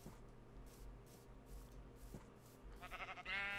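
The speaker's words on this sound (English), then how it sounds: "Oh, that's a sheep." A Minecraft sheep gives a short nasal bleat near the end, rising briefly over steady game ambience and soft background noise.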